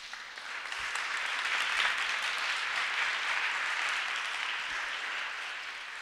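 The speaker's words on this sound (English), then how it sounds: "I would like all of you to make an applause for Michael" Audience applause at a conference panel on silenced journalists and whistleblowers, a steady, moderately loud wash of clapping that swells in the first seconds and then holds evenly, with no talking.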